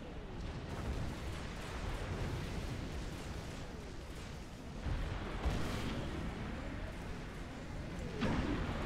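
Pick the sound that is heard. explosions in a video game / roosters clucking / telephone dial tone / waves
explosions in a video game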